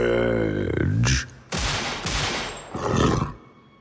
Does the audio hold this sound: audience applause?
no